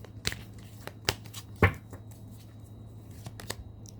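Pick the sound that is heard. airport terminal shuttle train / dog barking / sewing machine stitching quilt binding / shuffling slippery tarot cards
shuffling slippery tarot cards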